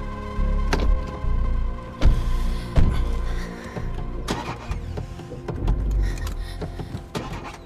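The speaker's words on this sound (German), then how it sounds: "Startet nicht. Komm schon, bitte spring an." Car engine cranking but failing to start: a steady whining, grinding starter churn with clunks, moderately loud and continuous, with no sign of the engine catching.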